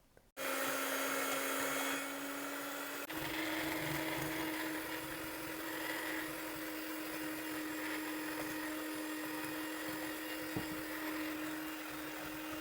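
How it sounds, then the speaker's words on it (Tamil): An electric mixer beats sugar and eggs for vanilla tea cake batter, switching on with a click and then whirring in a steady, high motor whine with faint rattling, no talk. "இதில் சீனியும் முட்டையும் சேர்த்து பீட் பண்ணி எடுத்துட்டேன்."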